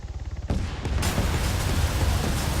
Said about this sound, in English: he's about to come down with a couple of Hellfire missiles